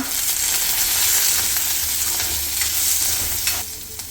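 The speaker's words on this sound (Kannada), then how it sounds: "ಅನಾನಸ್ ಹೂವು, ಮರಾಠಿ ಮೊಗ್ಗು, ಏಲಕ್ಕಿ, ಚಕ್ಕೆ, ಲವಂಗ ಫ್ರೈ ಮಾಡ್ಕೊಳ್ಳೋಣ" Whole star anise, marathi moggu, cardamom, cinnamon and cloves fry in hot oil for a Kannada village-style veg pulao, giving a steady loud sizzle broken by stirring scrapes, which thins out near the end.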